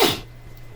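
One short, close sneeze bursts out, then quickly fades into a quiet room.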